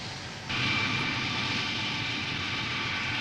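A Concorde supersonic airliner's jet engines roar from a distance as a broad, even rush that swells after a quieter start and holds steady with a faint high whine.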